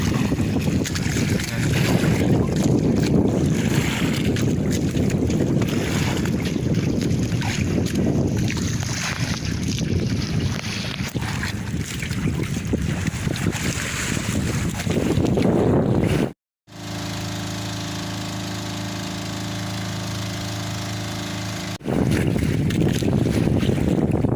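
Loud, constant roar of wind buffeting the microphone with strong surging waves at sea in bad weather throughout, briefly cutting out and then returning.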